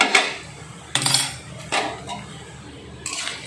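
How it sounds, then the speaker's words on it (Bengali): A metal lid comes off a cooking pot of simmering chicken, giving a few sharp clinks and scrapes spaced apart, close and moderately loud against a quiet kitchen background. "এবারে আমি ঢাকনাটা খুলে নিচ্ছি।"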